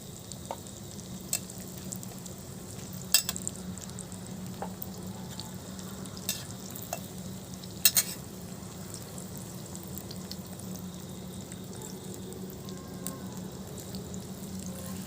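Dried and green chilies fry in a pan with hot onions, giving a steady close sizzle with a few sharp spits and pops scattered through and no voices.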